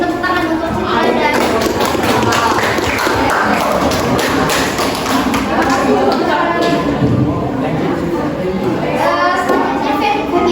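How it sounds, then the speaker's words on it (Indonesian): A classroom of schoolchildren claps for a classmate after her poetry reading, a dense, steady patter of many hands filling the room with chatter mixed in. "Tepuk tangan untuk Citra dan"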